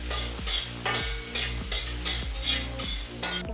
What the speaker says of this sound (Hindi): प्याज को भी हम ब्राउन होने तक ही भून लेंगे।